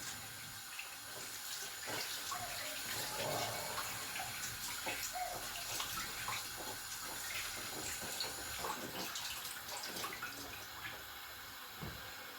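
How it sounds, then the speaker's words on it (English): Hands being washed under a running tap, a steady close stream of water splashing continuously at moderate level, with no talk over it. "You wash your hand, get it dried, so that your hand will be clean."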